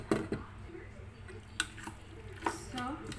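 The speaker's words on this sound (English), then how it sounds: "And then we have to mix it properly so it will be coated everything." Potato and onion pakora batter is mixed by hand with soft, faint squishing and sticky smacks, plus a few sharp clicks against the bowl, all at a low level.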